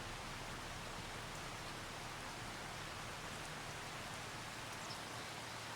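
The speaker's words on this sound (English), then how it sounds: "Should stop raining any time now." Steady rain hisses as a continuous, even wash of drops in a farming game set on a grass field, with no talk or other sounds over it.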